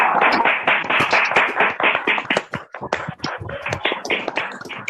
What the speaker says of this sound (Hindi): जोरदार ताली के साथ हम इनवाइट करेंगे बाली सर को।